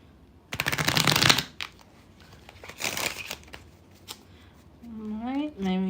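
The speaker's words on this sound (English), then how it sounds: "let me just shuffle these" A tarot card deck is shuffled close by in two quick riffling bursts with a few sharp card snaps between them, and a voice starts speaking at the end.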